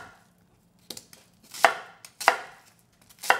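An onion is chopped into chunks on a board, with four sharp knife strikes: two quick light ones, then three louder, evenly spaced chops, close and clear with no talking.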